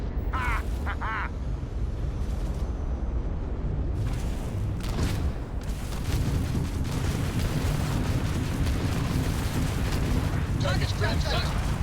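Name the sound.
spaceship weapons fire and explosions in video game Starfield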